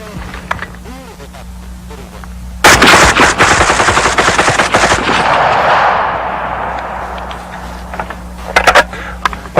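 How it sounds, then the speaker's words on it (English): Automatic rifle firing a rapid burst of about twenty rounds at five targets, a loud dense rattle of close shots that rolls into echoing decay, followed by a few scattered bangs near the end. "I'm going to try my best to hit those 5 targets with 20 rounds."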